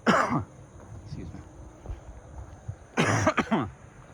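A man coughs and clears his throat outdoors at night, a loud burst at the start and another around three seconds, with quieter throat noises in between.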